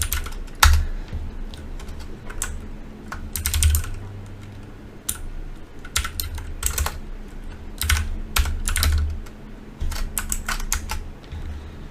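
Keys clatter on a computer keyboard as a command for a WiFi penetration-testing tool is entered, sounding as quick bursts of close, crisp clicks spread across the stretch with short pauses, and no talking.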